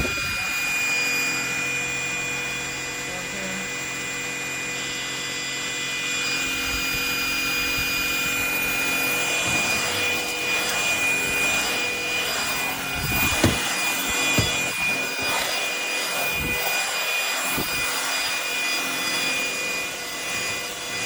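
An MBYULO 450W cordless stick vacuum cleaner runs with a steady whining drone, broken by a few soft knocks and bumps as it moves, and no voices.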